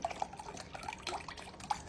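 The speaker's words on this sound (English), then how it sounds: "I'm using about 1 cup of some chicken broth, and I'm just gonna pour it right on top" Chicken broth, about a cup, poured from a container into a crockpot over other ingredients, giving a faint, light trickle and splash with scattered small drips, quiet and close with no talk.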